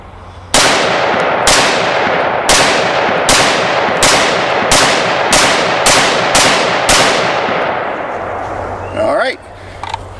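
A Vulcan V-18 upper on a Nodex spud lower fires ten sharp, loud gunshots in a steady rhythm, roughly one per second, each followed by a brief ringing decay, ending with a short scrape.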